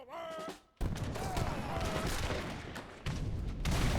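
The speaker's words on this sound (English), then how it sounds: "Oh, 5 mortars popping off." Several mortars firing in an Age of Empires match, a dense burst of sharp booms and crackling gunfire sounding close and loud after a brief lull, with battle noise continuing throughout.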